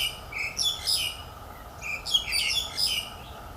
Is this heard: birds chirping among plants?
yes